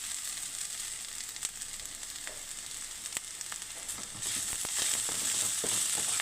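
Flat beans (sim) fry in a pan with a steady, close sizzle, a few soft clinks of stirring, and the crackle growing a little louder and brighter toward the end.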